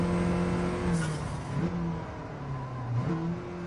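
A turbocharged front-wheel-drive car engine in a video game drones and whirs continuously, with pitch rising and falling as it revs and shifts, steady and fairly loud with no talking.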